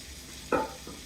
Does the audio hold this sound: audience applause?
no